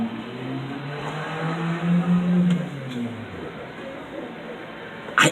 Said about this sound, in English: I keep thinking a motorcycle, and then I look at it and it's a sports car.